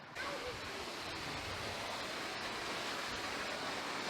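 Steady, broadband rushing water roars continuously, like a waterfall close by, with no breaks in the sound.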